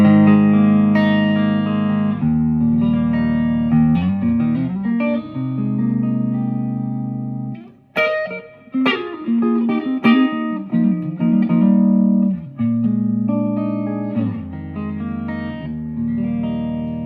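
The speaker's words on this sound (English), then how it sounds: "Here's the neck pickup." Clean electric guitar on the neck pickup through a Victoria amp, with a warm, round tone, plays chords and single-note lines, loud and close, with a brief pause midway.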